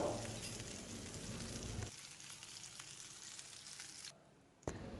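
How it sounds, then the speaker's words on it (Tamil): Kari adai batter cooking in a pan over low to medium flame gives a soft, faint sizzle that thins out partway and briefly drops away near the end. "மாவு வெந்துட்டுனா இந்த சலசலப்பு குறைஞ்சிரும்"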